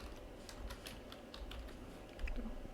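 Computer keyboard keys typed in quick irregular bursts while Python constructor code is entered, close and fairly quiet over a steady low room hum.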